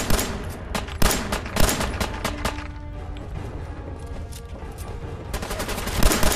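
Gunfire in Fallout 4 during a firefight, a dense run of loud, close shots in rapid bursts with short gaps, layered over continuous background game noise.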